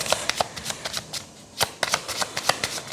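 Cartomancy cards are shuffled and drawn by hand for a fortune-telling reading, giving a quick run of crisp, close riffling and flicking sounds with a short pause in the middle.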